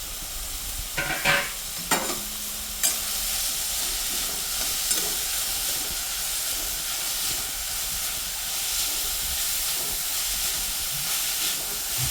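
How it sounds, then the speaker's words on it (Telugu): Thinly chopped onions fry in hot oil, giving a steady, hissing sizzle close by. A few sharp clanks and stirring knocks come early, then the frying goes on evenly. "ఆయిల్ వేడెక్కాక సన్నగా తరిగి పెట్టుకున్న ఉల్లిపాయలు వేయించుకోవాలి."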